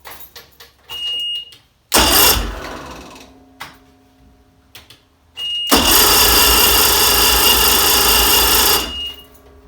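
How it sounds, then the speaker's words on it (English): A Sea Doo Speedster with a Mercury Sport Jet engine cranks and tries to start in two loud bursts, one short and one lasting about three seconds, with quiet gaps between them. "I heard a motor"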